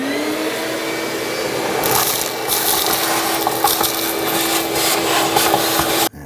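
A vacuum cleaner runs with a continuous loud whine while sucking debris from the top of the transmission area of a 2010-2019 Ford Taurus 3.5L V6, with gritty rattles and crackles of picked-up particles, then cuts off abruptly.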